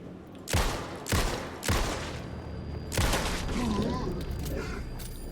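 Four heavy gunshots fired in Alan Wake 2, spaced roughly half a second to a second apart, loud and booming with long decaying tails over a dense rumbling game soundscape, followed by sustained low noise and a faint voice.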